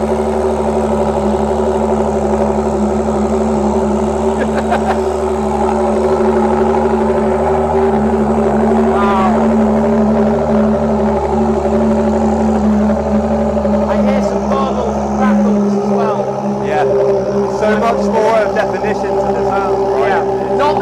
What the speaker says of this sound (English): This car has a mega cold start anyway. It always has an amazing sound.